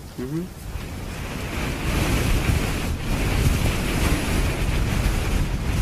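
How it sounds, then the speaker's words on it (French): Strong wind rises suddenly in the afternoon near the Nazca Lines, roaring and building across the microphone with broadband rushing noise that swells and stays loud after a brief quieter start. "En milieu d'après-midi, le vent se lève brusquement."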